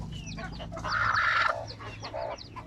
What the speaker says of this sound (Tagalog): Oh, Ang mga manok.